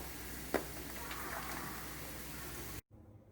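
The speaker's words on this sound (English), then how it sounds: "I am going to saute the vegetables for a while" Vegetables and boiled corn sautéing in butter in a pan with salt and black pepper, a steady close sizzle with one brief clink early on, then a sudden cut to near silence at the end.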